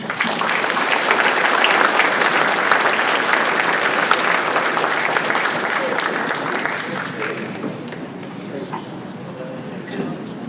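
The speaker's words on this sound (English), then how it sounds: "how about one more round of applause for Coach?" A crowd at a high school athletic hall of fame ceremony gives another round of applause for a coach, a loud sustained wash of clapping that gradually softens toward the end with faint voices.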